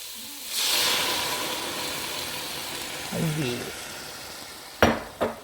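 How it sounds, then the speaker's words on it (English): Dry white vermouth poured into a hot pan of vegetables bursts into a loud hiss of steam and sizzle that slowly fades, followed by a brief voice and two sharp clanks of a utensil against the pan. "Now we're going to do the fun part and add the wine because we cranked up the heat just a little bit."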